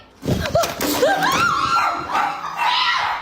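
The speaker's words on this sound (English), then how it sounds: "Hey, no barking." A feisty little dog barks and yips sharply and loudly in a close, agitated burst, with a person's voice mixed in.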